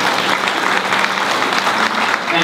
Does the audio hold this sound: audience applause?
yes